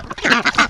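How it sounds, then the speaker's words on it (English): Large female ducks quacking loudly up close, a rapid burst of three or four raspy quacks in quick succession with no talking. "But look at the size of these ducks."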